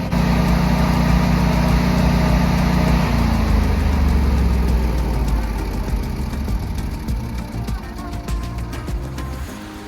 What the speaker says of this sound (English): the generator is just going to go through a cool down cycle and shut down